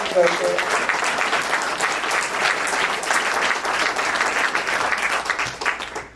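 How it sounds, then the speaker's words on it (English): Audience at a film panel gives a sustained round of applause, dense even clapping from a crowd lasting several seconds, with a faint voice at the very start. "Let's get a round of applause for Celeste."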